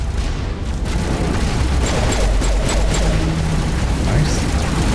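Pistol gunfire in the video game Mass Effect, repeated loud booming shots in quick succession over a dense, noisy game soundscape.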